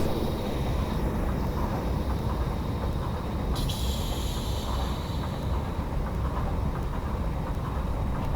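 A DW AS-616 diesel locomotive at full throttle in Train Simulator Classic gives a steady, fairly quiet engine drone that holds throughout with no break.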